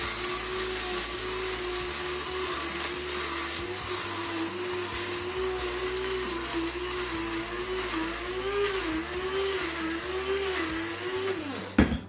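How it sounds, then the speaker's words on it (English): An electric grinder whirs continuously while grinding a mixed-seed blend into flour for a healthy cereal, its motor steady and loud with a slight wavering pitch as it is rotated, stopping abruptly at the end. "We're talking maybe 20 seconds tops, okay, to grind the seeds into flour."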